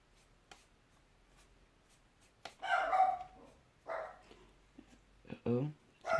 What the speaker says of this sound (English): Uh-oh, it's my dog.